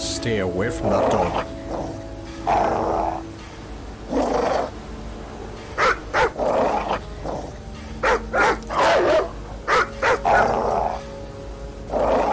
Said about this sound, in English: Stay away from that dog.